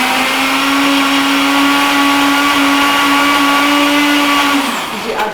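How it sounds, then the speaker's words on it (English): A blender whirs at a loud, steady high pitch, then winds down abruptly near the end. "So right now, I've got it in the blender."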